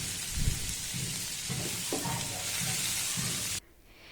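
Vegetables for egg chowmein sizzle in a hot pan under rhythmic scraping strokes of a spatula, then the sound cuts off abruptly near the end.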